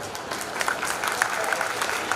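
Audience applause at a Hindi comic poetry gathering for a Jain community event, welcoming a young comic poet: a steady, dense patter of clapping from a crowd throughout, with faint voices mixed in.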